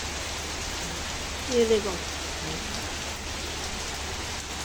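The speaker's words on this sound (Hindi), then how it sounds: "बारिश का कोई पता नहीं वो कितनी देर तक रहेगी।" A heavy rain shower driven by strong winds makes a dense, unbroken hiss close by. A voice speaks briefly over it.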